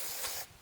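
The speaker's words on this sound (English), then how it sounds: "Just spray them with this" A short, sharp hiss of cleaner sprayed onto Ford Focus RS spark plugs, one quick burst lasting under half a second and then cutting off, close and alone.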